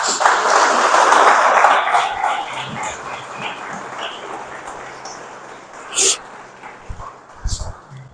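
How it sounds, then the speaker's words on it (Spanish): A church congregation claps and cheers loudly in praise during a worship service, the burst strongest at first and then thinning out, with voices talking over the fading applause. "¿Por qué no le das un fuerte aplauso a Dios?"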